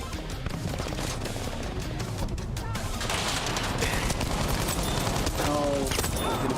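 MG42 machine gun fire in Battlefield 5, rapid bursts of gunfire crackling alongside other battle noise, dense and continuous with brief sharp peaks.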